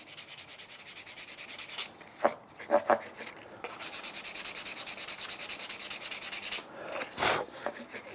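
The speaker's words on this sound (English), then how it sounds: "sand over the top." 240 grit sandpaper rubbed lightly by hand over a wooden surface, steady rhythmic rasping strokes up close, broken by a pause with a few taps before the scratching resumes and ends in a last heavier stroke.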